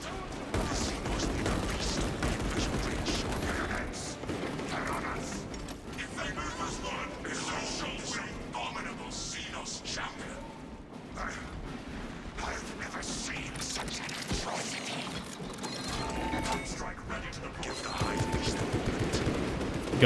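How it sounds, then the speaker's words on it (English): Automated turret in a Warhammer 40,000 video game firing steady, dense bursts of gunfire throughout, layered with mechanical clatter and booms, while people talk over the continuous barrage. "is our turret taking care of everything over here?"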